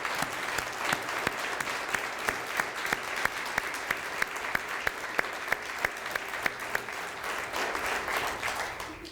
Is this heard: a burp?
no